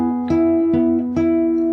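Close, clean fingerstyle acoustic guitar plays three plucked chord strikes with melody notes from a song, each left to ring and sustain before the next, with no talking.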